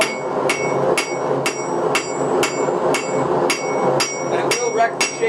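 A hammer forges the bevel of a dagger blade on the edge of an anvil, striking about twice a second in a steady rhythm of loud, ringing metallic blows.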